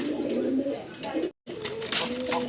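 A pair of fancy pigeons with eggs coo from their enclosure. The low, rolling coos repeat close by, broken by a brief silent gap, with someone talking faintly in the background.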